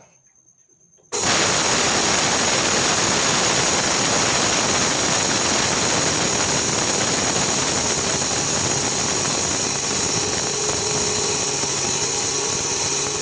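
A mixer grinder with its dome in place grinds wheat into flour, starting abruptly after a second of near silence and then running as a loud, steady, high-pitched motor whine mixed with the rough, dense rattle of grain for the rest of the clip.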